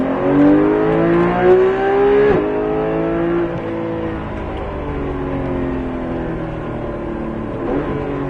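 A Porsche 991 GT3 at the Circuit de Bresse track pulls hard on full throttle, its high-revving engine rising through the gears and then holding a loud, steady wail from inside the car.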